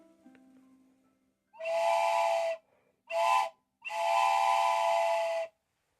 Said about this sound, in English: drill 4 holes down of different lengths into here and then plug it up, make little whistles